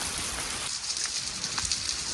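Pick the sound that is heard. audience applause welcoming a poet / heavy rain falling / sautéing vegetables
heavy rain falling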